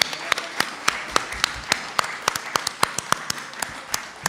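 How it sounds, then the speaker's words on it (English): Sparse clapping from a meeting audience for a village fire department at a board of trustees session, scattered individual claps fairly close and moderate in level, with no talk over it. "let's give a round of applause for our Dolton Fire Department"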